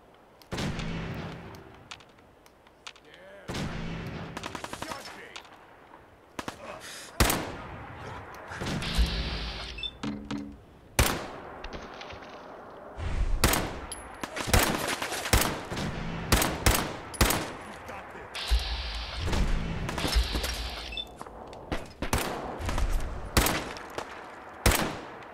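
Gunfire in the game Fallout 4: repeated sharp shots and short bursts, irregular and close, spread across the whole stretch with echoing tails and a few distant pops between them.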